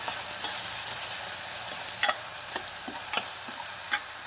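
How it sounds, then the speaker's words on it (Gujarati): Chana dal is stirred into hot oil in a pan, giving a steady hiss of frying with a few sharp scraping clicks from the spoon near the end. Close and clear, with no voices. "સારી રીતે આમાં તેલમાં મિક્સ કરી દઈશું આપણે દાળને"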